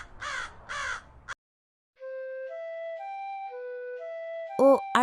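A cartoon crow caws twice in harsh, close bursts at the start, then a simple tonal melody plays, and a few more caws break in at the end.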